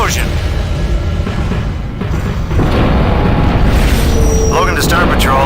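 An explosion at a starbase in the space game Tachyon: The Fringe sounds as a loud, continuous low rumbling roar that thickens partway through. A voice can be heard over it.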